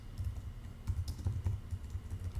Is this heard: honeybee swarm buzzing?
no